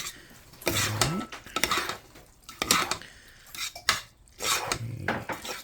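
Kraft macaroni and cheese stirred in a pot, with several distinct scraping and clinking strokes of a spoon against the metal in an uneven rhythm, fairly quiet and close.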